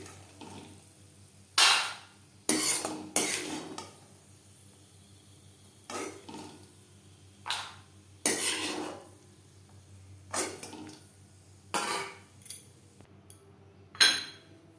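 Fried peanuts are drained of oil and moved into a bowl, heard as a string of separate bursts of rattling and scraping from a metal spoon against pan and bowl, with quiet pauses between them and no talk.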